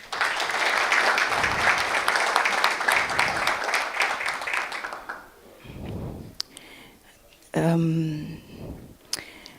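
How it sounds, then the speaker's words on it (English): Audience applause at a technology seminar, dense clapping for about five seconds that then thins and fades, followed by a few scattered claps and a brief voice-like sound near the end. "Please clap hands for her."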